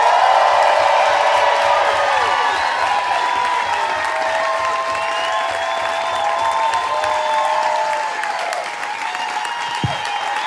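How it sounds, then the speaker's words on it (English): Loud, continuous audience applause with cheering and whoops greets headlining comedian Ian Karmel at a stand-up show, sustained throughout and easing slightly near the end. "Clap nice and loud for your headliner, Ian Karmel."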